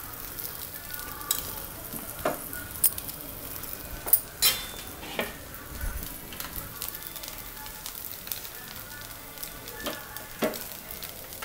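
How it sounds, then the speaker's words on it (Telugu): Aval (poha) dosa cooking in a spoonful of oil on a pan over low flame, with a steady soft sizzle and frying crackle and scattered small pops throughout. "దోశని సిమ్లో పెట్టి కాల్చాలి."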